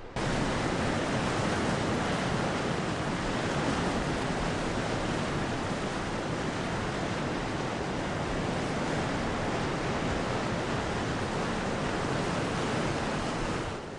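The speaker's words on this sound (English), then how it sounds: "Below are the springs that give life to the Orontes River." The springs that feed the Orontes River, a loud, constant broadband rush of flowing water that stays even and unbroken throughout, with no other sounds.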